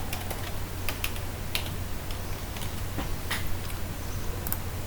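Computer keyboard being typed on to enter an email address and password, scattered light key taps over about five seconds against a steady background hum, close and faint.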